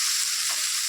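Sweetened water lily stem curry with sugar sizzles steadily in a pan on a gas stove for a brief moment, a soft, even frying hiss with no voices.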